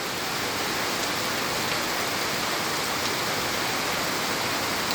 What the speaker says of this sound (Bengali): বৃষ্টি তো আরো বাড়ছে।